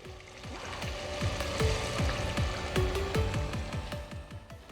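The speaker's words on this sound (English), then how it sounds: "Add about 12 ounces of red wine to the pot." Red wine pours into a pot of Bolognese sauce, a close bubbling and gurgling with repeated splashy blips and a soft simmering sizzle underneath.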